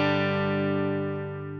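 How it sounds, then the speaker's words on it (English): Clean electric guitar tone from a Fender Stratocaster run dry with no reverb, a single sustained chord ringing loud and close, slowly decaying over under two seconds with no other sounds. "this is my clean guitar sound. Just a Fender Strat into the simplifier"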